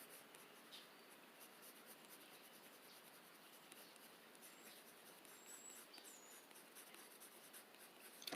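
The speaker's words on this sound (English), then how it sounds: "I'm using Prismacolor pencils" Prismacolor colored pencils sketching on paper, a faint, steady scratchy rubbing that runs continuously and close-up, with no voices.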